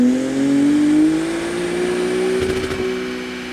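Acura NSX second-generation hybrid engine revving hard through a wide-open-throttle sweep, a loud rising tone climbing steadily in pitch, then holding near the top with a rough, fluttering edge before easing, close up with no talk.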